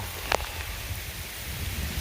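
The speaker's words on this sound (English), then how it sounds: "Oh, it looks like it's raining hard over there." Steady hard rain falling outdoors near a farm, a continuous broadband hiss with one brief louder splash or knock early on and no voices.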